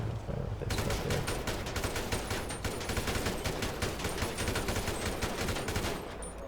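Dense, continuous gunfire from a GTA firing scene, rapid overlapping shots forming a loud sustained fusillade that starts abruptly after a brief quiet moment and runs unbroken to the end.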